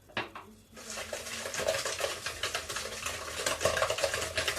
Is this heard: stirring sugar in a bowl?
yes